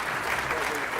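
Guests at an ethnic business awards gala dinner give a standing ovation, a thick, continuous roar of applause from a large crowd, loud and unbroken, with a voice mixed in beneath it.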